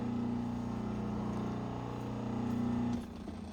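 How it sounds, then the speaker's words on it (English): An electric grinder hums steadily and loudly at close range while a double bit axe is being hafted, then cuts off and winds down near the end. "Turn the old grinder off."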